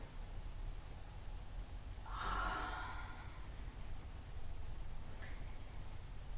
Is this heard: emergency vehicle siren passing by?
no